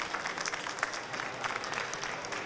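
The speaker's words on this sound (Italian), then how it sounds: "più forte l'applauso per Maria." Audience applause fills the room at a conference on the third sector, innovation and new technologies, a steady continuous patter of many hands clapping at moderate distance, with no speech over it.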